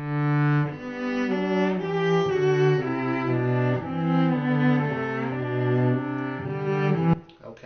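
Several cello parts play together in a chamber ensemble, with sustained bowed notes moving in harmony. The passage runs steady for about seven seconds with gentle swells, alone with no talking.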